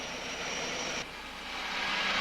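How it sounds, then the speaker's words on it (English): Army helicopter flying over desert front lines, its steady broadband rotor and engine roar loud and continuous, shifting slightly in tone partway through with no voices. "I was airlifted to Morocco's front lines by Army helicopter."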